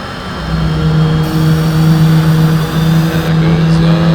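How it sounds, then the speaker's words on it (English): F/A-18 jet engines spool up during a startup sequence in the DCS flight simulator, a steady, loud turbine hum with a low droning tone that swells slightly and holds, with no talk over it. "Alright, start up the engines here."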